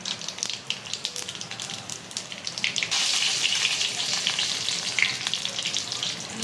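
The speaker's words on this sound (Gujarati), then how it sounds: "તેલ ગરમ થઈ ગયું છે તો આપણે હવે એમાં રાઈ ઉમેરીશું" Mustard seeds and cumin sizzle and crackle in hot oil for a village-style Gujarati cauliflower and potato curry, a dense, steady spitting that grows louder and fuller partway through, close and continuous.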